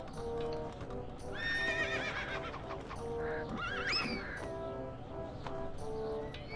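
Horse in the LEGO Island 2 video game, clip-clopping hooves in a steady rhythm with a couple of high, wavering neighs and whinnies rising above game music.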